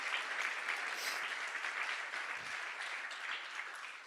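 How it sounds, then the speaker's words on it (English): Audience applause at a town hall event for a name reveal, steady and dense from start to finish with no pauses, a large crowd clapping together at an even loudness. "So do you want to make an applause for it?"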